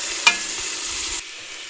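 Tomato and onion fry in a pan while being stirred for a potato soup, a steady close sizzle with a single scrape of the spoon before the sound suddenly drops lower.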